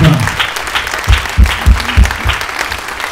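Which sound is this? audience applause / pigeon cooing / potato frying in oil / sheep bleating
audience applause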